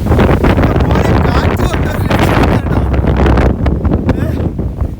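Strong, steady wind on a hilltop about 3000 feet up, Kali Mala near Vellarada, Thiruvananthapuram, roars and buffets the microphone in loud gusts, with a low rumbling rush throughout and brief dips in intensity.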